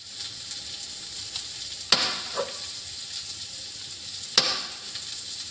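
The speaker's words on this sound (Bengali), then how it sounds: "পেঁয়াজ কালি ভাজা করছি" Onions frying in a pan in a home kitchen, a soft steady sizzle heard close, with two sharp clinks of a utensil and a brief stir between them.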